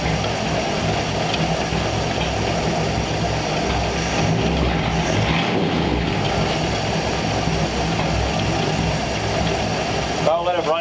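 A 1934 Ford engine with a freshly rebuilt carburetor idles steadily and loudly, a continuous rough rumble with no pauses, and a brief voice cuts in near the end.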